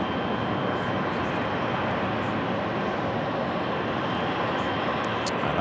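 An EasyJet airliner landing on runway 22 left at JFK, heard as a steady, broadband roar of jet engines that stays constant and loud throughout.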